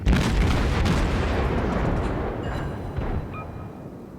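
Naval guns boom from a destroyer battle in World of Warships, a dense roar of heavy rolling blasts that fades a little over a few seconds, with a couple of sharper distant reports near the end.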